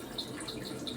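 Water runs steadily into a half-filled toilet cistern tank of a new-model commode under repair, a continuous close hissing flow with no talk.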